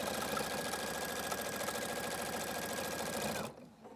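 A sewing machine stitches quilt binding, its steady rapid mechanical hum running close and continuous for a few seconds before stopping abruptly.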